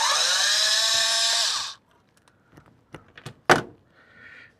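A power screwdriver whirs loudly for nearly two seconds while backing screws out of an International Navistar instrument cluster circuit board, then falls quiet, followed by scattered small clicks, taps and a sharp clack nearby.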